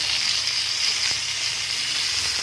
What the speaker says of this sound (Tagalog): gigisa natin yung ating luya, sibuyas, sa bawang